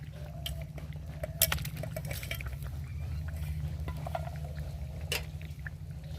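A spoon stirs fish curry with potatoes and papaya simmering in a cooking pot, giving soft scrapes and occasional light clinks over a low steady bubbling hum, no talking.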